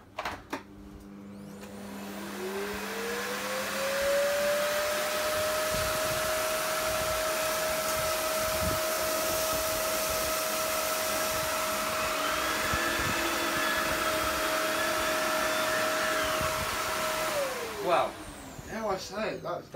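A Hoover Dustmanager vacuum cleaner with a turbo brush runs on carpet, spinning up to a loud, steady whine and shutting down near the end, with a few knocks around it.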